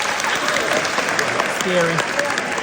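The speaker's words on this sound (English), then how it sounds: "Okay, now clap if you would not do that." An audience at a film festival session claps briefly and steadily, a moderate patter of many hands, while a single voice speaks over it.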